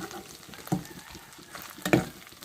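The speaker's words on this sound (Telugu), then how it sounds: "వేయించుకుంటే సరిపోతుంది సరిపోతుంది" Amla and tomato pickle ingredients fry in a pan with a soft sizzle, broken by two louder stirring scrapes, one early and one near the end.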